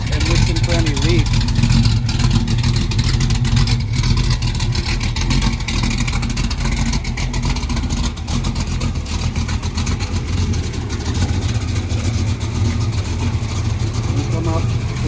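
A car engine runs steadily after starting while its exhaust system is checked for leaks, a continuous rumbling idle with occasional revs and clicks, and a person talks over it.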